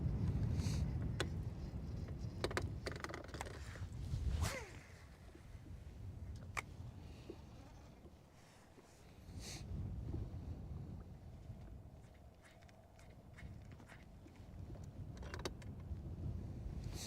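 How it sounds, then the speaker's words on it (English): Wind blowing outdoors on Lake Guntersville, a rumbling gusty rush buffeting the microphone, rising and falling over time, with scattered knocks and clicks from a boat nearby. "The wind is blowing now."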